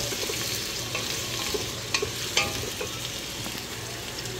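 Onion sautéing in a hot pan, a dense steady sizzle with occasional stirring clicks and scrapes, close and without talk.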